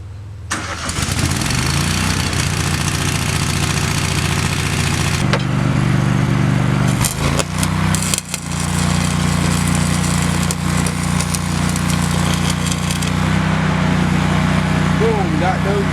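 A Lincoln engine-driven welder starts up in a shop during a 1977 Chevy truck bed build, the engine cranking and catching, then running loud and steady with pitch shifts as it settles into idle.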